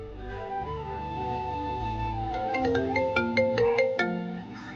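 An incoming call sets off a phone ringtone, a bright melodic tune of plucked, chime-like notes that plays steadily and fairly loud for several seconds.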